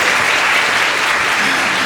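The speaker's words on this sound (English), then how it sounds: "A little round of applause" A stand-up comedy audience gives a short burst of steady, dense applause that fills the room evenly from start to finish.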